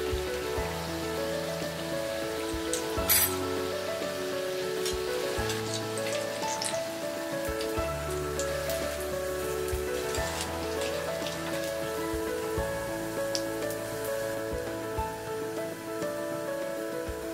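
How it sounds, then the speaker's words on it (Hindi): Sago fritters (sabudana vada) deep frying in hot oil over a medium flame, giving a steady, soft crackling sizzle like light rain that runs throughout beneath background music. "हमने इसे मीडियम फ्लेम में गोल्डन ब्राउन होने तक इसे फ्राई कर लेंगे।"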